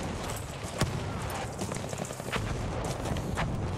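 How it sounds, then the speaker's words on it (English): Artillery shells and gunfire in a Battlefield 5 multiplayer battle, with a few sharp booming blasts cutting through a constant loud roar of combat noise. "Artillery."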